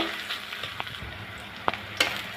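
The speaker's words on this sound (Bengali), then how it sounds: "কাঁচামরিচ আর পেঁয়াজটা আমি একটু লাল লাল করে ভেজে নিব" Onions and slit green chilies sizzling in hot oil in a pan, a soft steady frying hiss broken by a few sharp pops and stirring clicks, heard close and without talk.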